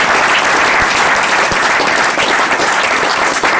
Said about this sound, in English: Give Dave and Jeffrey a good round of applause.